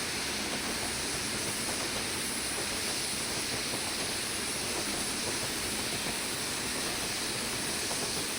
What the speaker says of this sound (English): there's a Newton Stewart to Castle Douglas train. So that's what's coming by over here